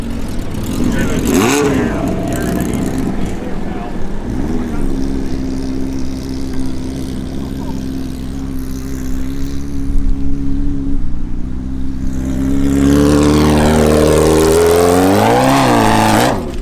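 A golf cart fitted with a Honda CBR1000RR motorcycle engine for drag racing, on a golf course, revs up loudly and close, with a rising, straining whine near the end, while people talk over the engine.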